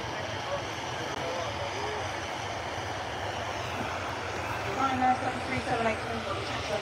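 Ryanair airplane at Manchester Airport, a steady distant jet roar that swells slightly toward the end, with a person talking over it.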